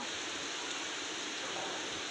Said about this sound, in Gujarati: હવે તો વરસાદ આવી ગયો છે